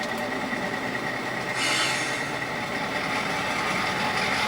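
A 1970s train rolling along the rails during switching operations, a steady continuous rumble with a brighter hiss of wheel and rail noise joining partway through, fairly close and with no talk.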